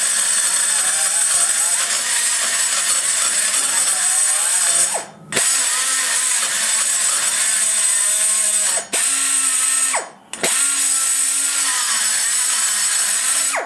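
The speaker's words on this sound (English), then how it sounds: "So I take the grinder and I pull in a motion going at an angle." A grinder removes raw material from an SBC 190 port entrance with a loud, high, continuous whine. The pitch shifts slightly as it works, with a few brief pauses before it spins back up.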